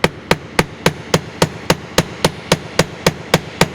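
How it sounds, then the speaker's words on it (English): An old carpenter's hammer flattens copper wire for handmade jewelry, landing about fourteen evenly spaced, sharp metallic blows in a steady rhythm, loud and close with no talk. "I'm just going to take this wire and I'm going to flatten it."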